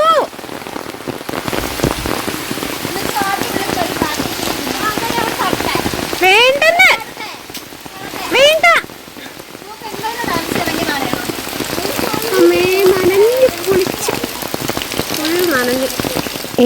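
Steady rain pours onto surfaces outdoors during a family outing, a continuous dense patter that runs throughout, while voices talk and call out over it at times.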